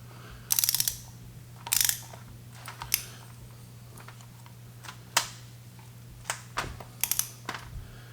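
Small screws on a BMW E90 3 Series transmission being tightened to 6 Newton meters, a run of sharp ratchet clicks in short bursts over a steady low hum, close and fairly quiet, with no talking.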